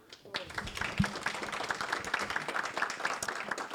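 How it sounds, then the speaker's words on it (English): Audience applause at the close of a conference session on energy sustainability, a crowd's clapping starting abruptly and continuing steadily, with some voices beneath. "I think we should have an applaud"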